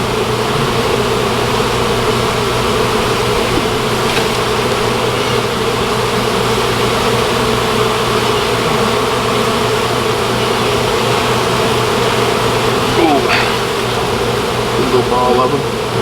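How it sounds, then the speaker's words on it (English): Honey bees swarm around an open hive, making a dense, continuous, loud buzzing drone close by that never lets up, with faint voices under it. "there's a lot of bees"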